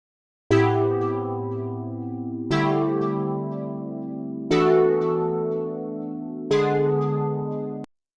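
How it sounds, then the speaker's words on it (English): Evergreen synth preset from the Future Disco pack plays four evenly spaced sustained chords, each with a sharp attack and a slow fade, bright and clear with no voices. "The main sound is this, which is a preset called Evergreen from our Future Disco pack."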